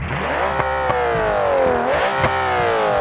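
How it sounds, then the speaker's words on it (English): A first-generation Subaru Impreza's 3-litre, 320-horsepower naturally aspirated flat-six in BeamNG revs hard, pitch climbing, dropping and climbing again, loud and close with a raspy exhaust note. "It's a flat 6. 3 litres, 320 horsepower, naturally aspirated. Listen to this."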